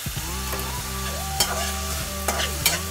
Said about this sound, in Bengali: তাড়াতাড়ি দিয়ে সব উপকরণ মিশিয়ে নিচ্ছি।